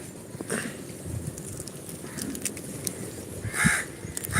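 A crow caws a few times outdoors on a rainy day, harsh calls standing out over a background of patter and light noise, with one louder, closer caw near the end.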